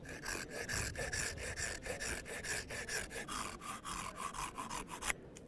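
Handsaw cutting through a piece of birch wood, steady back-and-forth rasping strokes close up and fairly loud, continuing for several seconds before stopping abruptly near the end.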